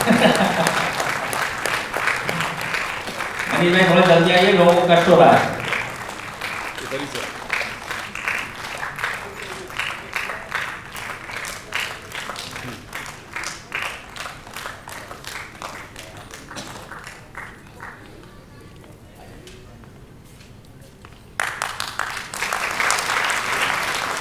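Audience applause at a stage show of dance, song and a play, heard as a dense burst of clapping that thins into scattered claps, with someone speaking over the crowd and the clapping swelling again near the end.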